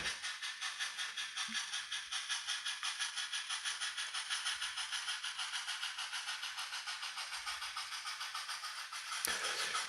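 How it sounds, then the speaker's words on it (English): A model steam locomotive with a SoundTraxx sound decoder chuffs out a steady, rhythmic hissing exhaust beat, quiet and even throughout, ending with a brief sharp click, no talking. "these digital dynamic exhaust feature that the SOUNDTRAXX decoder has is it really brings the steam engines to life"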